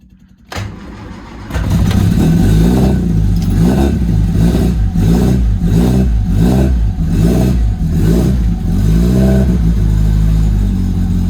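Lotus Elan sports car started in a garage without choke: a click and brief cranking, then the engine catches and runs loud and close, revved in a steady series of rising and falling blips.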